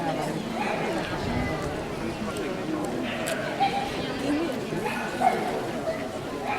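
Several dogs bark and whimper in a busy, noisy setting at what seems to be a Hungarian dog event, steady crowd murmur and talk underneath with occasional sharper yips standing out.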